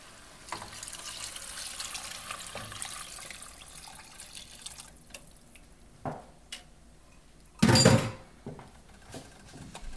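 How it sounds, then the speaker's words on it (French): Beef broth poured into a goulash pot makes a liquid splash around the eight-second mark, sitting under a steady low hiss and scattered small clinks of cooking. "On ajoute le bouillon de bœuf."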